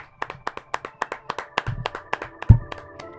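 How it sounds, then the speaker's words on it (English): Rhythmic, evenly spaced claps close to the microphone, about a dozen sharp hits in quick succession with a heavier thump near the end, sounding like a small handful of people rather than a large crowd. "Round of applause."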